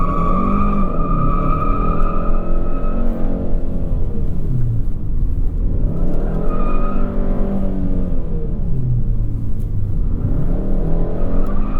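A 2021 Hyundai Sonata N Line spins its front wheels, the tires squealing in long wavering bursts over a constant loud engine and road roar, close and sustained throughout.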